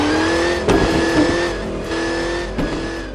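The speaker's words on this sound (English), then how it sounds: "Change the settings and your racer will change its driving behavior and sound as well." A toy racer car with a simulated engine sound, a steady loud synthetic engine whine with small rev bumps and a few brief skid-like bursts, close and continuous.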